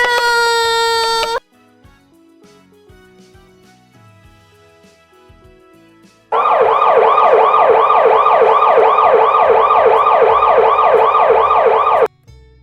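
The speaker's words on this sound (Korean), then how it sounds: "여러분은 사이렌 소리를 들은 적이 있나요?" A loud electronic siren wails continuously for several seconds with a rapid warbling pattern, following a brief tone and a quieter stretch of clicks.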